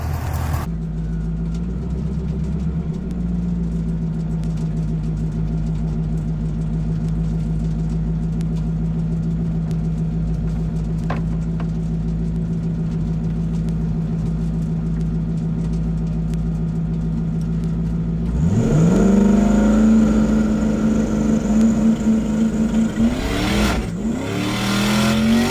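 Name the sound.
Ford Mustang drag car idling and revving at the track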